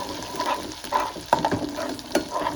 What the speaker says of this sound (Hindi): तो ये मेरा मसाला भून गया है, तो मुझे बहुत ज़्यादा नहीं भूनना है, थोड़ा ही भूनना है